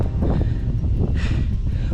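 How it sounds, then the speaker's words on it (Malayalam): Cold wind gusting across an open hilltop at Ranipuram in Kasaragod, a steady broadband rush buffeting the microphone with a brief stronger gust partway through, no voices. "ഇവിടെ എത്തിയപ്പോൾ അത്യാവശ്യം കാറ്റുണ്ട് നല്ല തണുത്ത കാറ്റുണ്ട്"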